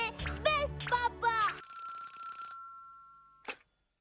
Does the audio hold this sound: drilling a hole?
no